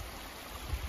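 Snowmelt water rushing down a mountainside in the Three Sisters Wilderness in June, a steady broadband roar of fast-flowing stream water with low rumbling surges, continuous and moderately near.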